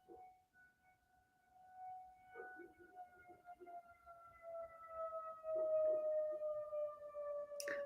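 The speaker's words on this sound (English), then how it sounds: "but that's like an emergency siren." Emergency siren wailing outdoors in the distance, a sustained tone that slowly swells louder, with faint background murmurs and no clear talking.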